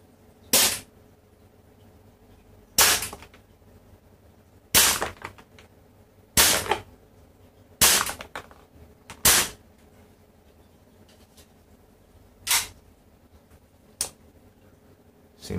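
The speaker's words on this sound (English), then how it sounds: "let's move on to the accuracy shooting test for the Glock 17" A third-generation Tokyo Marui Glock 17 airsoft pistol fires eight sharp single shots, each a crisp close snap spaced one to three seconds apart in an uneven rhythm, with quiet between shots and no talk.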